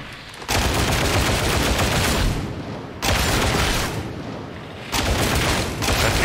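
Gun in a Warhammer shooter game firing sustained automatic bursts, three loud, dense, roaring volleys of about two seconds each separated by brief gaps.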